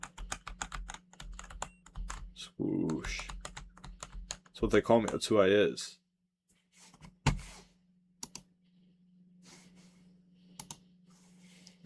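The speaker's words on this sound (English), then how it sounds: "I was trying to type my name on the keyboard instead of using the controls" Rapid keyboard clicks rattle on a computer keyboard as someone types a name, the tapping running under a man's nearby speech and trailing off into sparse keystrokes.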